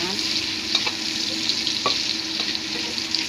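Ginger stir-fries in a hot pan. A continuous close sizzle runs throughout, punctuated by a few light scrapes of a spatula as it is tossed, with no voices.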